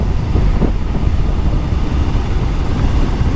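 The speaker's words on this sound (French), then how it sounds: "On va tester un peu la souplesse du moteur." Suzuki GSX-S 1000 GT four-cylinder motorcycle engine held at about 2000 rpm in sixth gear, a steady low rumble blended with wind rush, with no talk over it.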